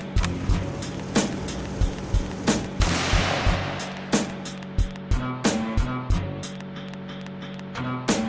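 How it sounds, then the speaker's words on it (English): Sharp, loud rifle reports from a 30-06 fired at 10 yards outdoors, a dozen or so cracks at uneven intervals, each with a short echoing tail, from antique WWII-era rifles. "Josh is shooting a 30-06 at 10 yards."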